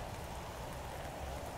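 Acid rain in the Roblox game Natural Disaster Survival, a steady, even hiss of rainfall drumming on surfaces, continuous and fairly soft with no voices over it.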